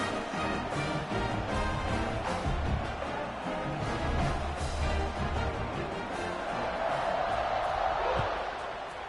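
A packed football stadium crowd before a kickoff in a Georgia vs Florida State game, a loud continuous roar of cheering and shouting that swells and stays dense throughout.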